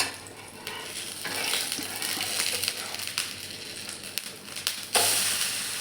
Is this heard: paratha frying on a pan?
yes